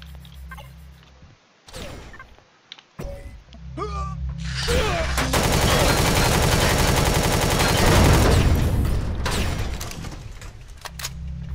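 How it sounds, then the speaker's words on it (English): Gunfire aimed at the player in Empyrion, near a turret and enemy spawners: bursts of rapid rattling shots build into a loud sustained volley, with scattered sharp effects before it and quieter game sounds around. "Oh, they're shooting me!"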